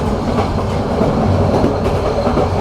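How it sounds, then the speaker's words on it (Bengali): Cox's Bazar Express train rolling onto a small railway bridge, a steady loud rumble of wheels and carriages with faint rhythmic clatter running throughout, heard from on board. "সামনে একটি রেলওয়ে সেতু দেখতে পাচ্ছি ছোট আমরাও প্রবেশ করবো অলরেডি আমাদের লোকোমোটিভ প্রবেশ করেছে"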